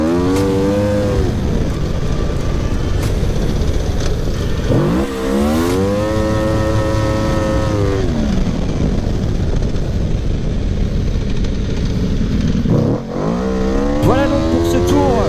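A drift car circling a track, its engine revving hard with rising and falling pitch sweeps as it shifts and slides, loud and continuous, with a voice talking over it.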